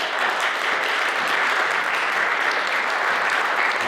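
Sustained, loud audience applause at a youth volunteer forum awards ceremony, an even, dense roar of clapping from a large crowd with no breaks.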